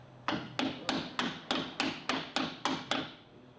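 A hammer drives a lower control arm part into place on a 2002-06 Toyota Camry, ten evenly spaced sharp metallic taps close by with no talking.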